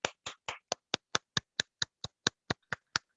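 Rhythmic clapping welcomes Ibu Melisa Chandra at a health talk: about fourteen sharp, evenly spaced claps in unison, crisp and close, with no voices.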